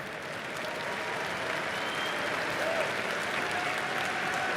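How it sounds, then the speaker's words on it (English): A large arena crowd at The International 2024 Dota 2 finals applauds steadily, a dense, sustained wash of clapping and crowd noise that holds at an even loud level throughout, with faint voices mixed in. "Please, a round of applause for them."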